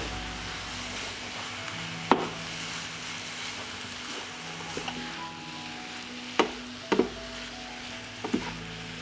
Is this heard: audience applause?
no